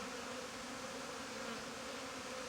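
Honeybees drone steadily inside an opened hive while colonies are being merged, a dense, continuous buzzing of many insects close by with no voices.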